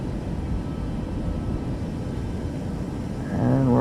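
Airplane engine roaring during takeoff in Microsoft Flight Simulator 2024, a steady dense rumble that swells slightly louder near the end, with a tonal whine rising in the final moment.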